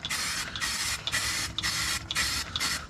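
Rust-Oleum flat black spray paint hissing from an aerosol can onto a 1972 Ford F100 drum brake part, with about five close, steady bursts separated by brief pauses.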